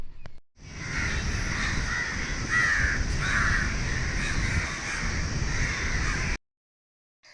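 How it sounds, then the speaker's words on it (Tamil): A large flock of crows caws continuously and loudly on a house's rooftop terrace, a dense overlapping chorus lasting about six seconds before it cuts off. "இது எதனால் அப்படி ஒரே இடத்துல பார்த்திங்கன்னா இவ்வளோ காக்கா வந்துச்சுன்னு எனக்கு தெரியல."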